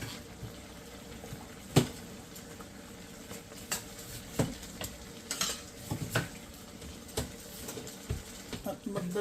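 Bottle gourd, tomatoes, chicken and chili being stirred in a pan, with spoon scrapes and light taps against the pan and a soft bubbling, simmering background.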